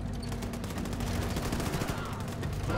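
Gunfire in the video game Wolfenstein 2, rapid automatic bursts rattling continuously and loudly up close, with a voice talking faintly underneath.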